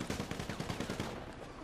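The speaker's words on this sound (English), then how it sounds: "I think I just got sniped right in the head" Gunfire in GTA V Online, a fast run of sharp, evenly spaced shots over roughly a second and a half, fairly loud and close, before trailing off into a duller rumble.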